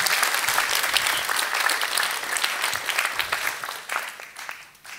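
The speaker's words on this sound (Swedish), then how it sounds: "Applåd." Audience applause at a startup event, steady, dense clapping from a crowd throughout, moderately loud and slowly tapering toward the end.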